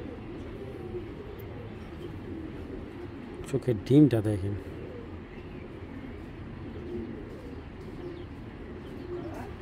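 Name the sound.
pigeons cooing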